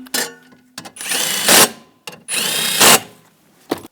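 A power tool whirs in two bursts, each rising to a louder high-pitched drive as it tightens a nut on a stud during a door actuator replacement on a 2010-2017 Chevrolet Equinox, with brief clicks and silences between.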